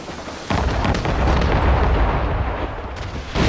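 Naval cannons fire a broadside during a sea battle off Labrador in Assassin's Creed Rogue. The blast opens loud and close, the roar sustains for a few seconds, and a second shot follows at the end.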